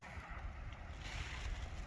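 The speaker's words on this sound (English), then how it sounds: "I think we got a little waterfall there on the other side of the Susquehanna." A small waterfall across the Susquehanna River, where a stream spills down over rocks, gives a steady, faint, distant rushing of water mixed with light wind, with no voices.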